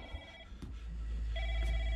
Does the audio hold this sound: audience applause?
no